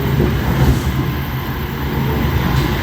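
A KRL commuter train passes close by with a loud, rumbling roar of wheels on rails that holds steady throughout.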